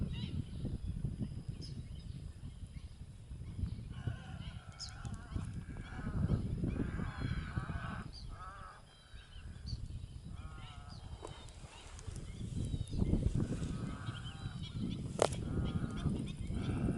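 Migratory birds call from the mangrove forests on Aceh's eastern coast with a run of honking, goose-like cries that come and go over a steady outdoor background.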